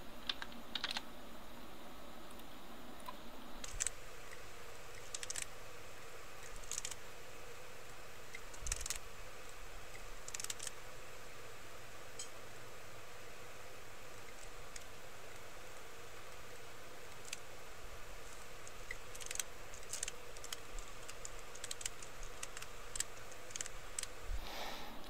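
Quiet, steady typing on a computer keyboard, a continuous run of light key clicks with occasional sharper taps, heard alone without talk.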